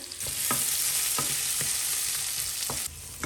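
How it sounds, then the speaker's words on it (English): Onions sizzle loudly in a hot pan for a mustard-onion sauce, while a utensil scrapes the bottom of the pan in a steady stirring rhythm, close up. "We have been stirring this onion beautifully."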